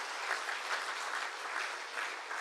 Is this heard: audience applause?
yes